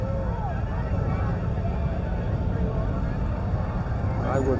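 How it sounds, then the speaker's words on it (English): Engines of a motorcycle group rumble past in a Veterans Day parade in Yuba-Sutter, a continuous low droning roar with a commentator's voice talking over it. "And a motorcycle group."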